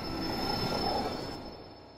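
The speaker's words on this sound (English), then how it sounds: "That's a train." A train rushes past in the VR game Propagation VR, a loud roaring rumble with a high metallic squeal that swells and then fades away over two seconds, with no voices.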